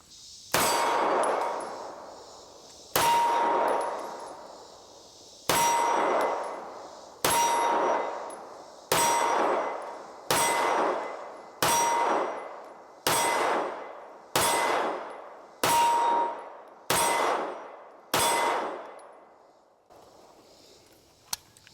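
An H&K CC9 pistol fired at a steel target, with about eleven evenly spaced shots. Each one lands as a sharp metallic clang that rings out and fades before the next, close and loud, with no voices.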